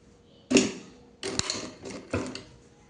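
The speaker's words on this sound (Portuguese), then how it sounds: "Vou colocar aqui na máquina para a gente poder costurar" A domestic sewing machine stitches fabric for a zippered cosmetic pouch in short close bursts of rapid mechanical whirring, three or four runs separated by brief pauses.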